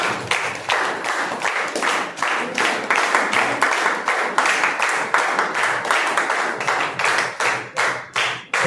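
A crowd at a church Sunday rally prize giving claps in a steady, rhythmic unison beat, loud and close, continuing throughout without speech.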